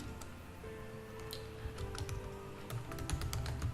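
Rapid light clicking of computer keyboard keys, a steady patter of keystrokes, close and fairly quiet, continuing without speech.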